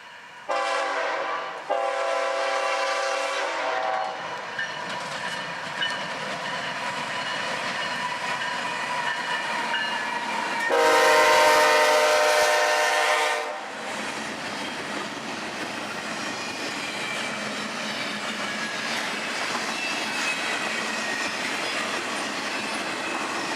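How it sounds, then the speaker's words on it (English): CSX fast-moving intermodal freight train, a short hotshot led by a pair of ES44 locomotives on the Chatt Sub, sounds its horn in several loud blasts, then rolls past as a steady rumble and clatter. "a fast-moving intermodal with a pair of Citi Rail ES44s in charge"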